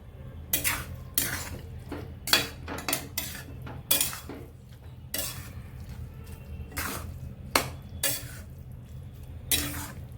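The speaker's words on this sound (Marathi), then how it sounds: "छान मिक्स करून एक एकजीव करून घेऊ" Carrot halwa being stirred in a metal pan, a spoon scraping and clinking against the sides in repeated close strokes at an uneven pace over a low background hum.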